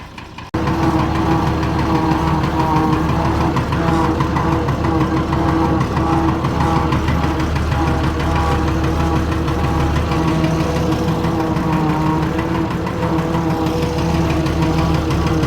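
A Fordson tractor engine idles loudly and steadily nearby, a rough, knocking chug that runs continuously without change.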